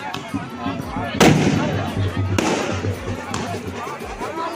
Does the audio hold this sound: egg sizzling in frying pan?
no